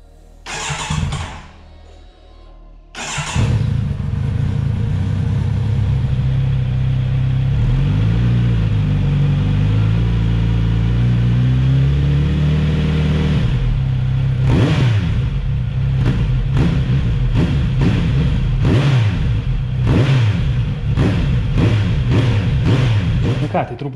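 A 2019 Kawasaki Z900 RS with a 948 cc engine cranks briefly, then fires up and settles into a loud, steady idle rumble up close, with a series of sharp throttle blips toward the end.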